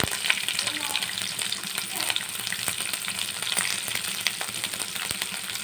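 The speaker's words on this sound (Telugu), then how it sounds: "కొద్దిసేపు ఫ్రై చేయాలి కొద్దిగా ఉప్పు వేసి తొందరగా మగ్గుతుందండి" Chopped onion and green chilli frying in a pan with a little salt, a steady close sizzle with light stirring clinks, no talking.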